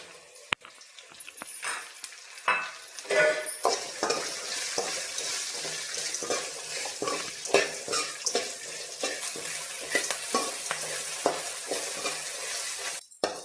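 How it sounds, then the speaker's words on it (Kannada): Chopped onion and cumin frying for Karnataka-style okra fry, a steady close sizzle with scraping stir strokes and spatula clinks running throughout, no voices. "ಈಗ ಈರುಳ್ಳಿನ ಸಹ ಚೆನ್ನಾಗಿ ಫ್ರೈ ಆಗಿದೆ"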